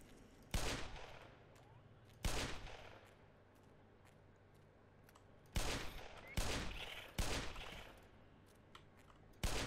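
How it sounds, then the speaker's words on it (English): A .357 revolver fired in the video game Half-Life Black Mesa, with six loud, sharp booming shots spaced irregularly, each ringing briefly over a quiet background. "Let's get the 357 out. Kill them in one shot with this."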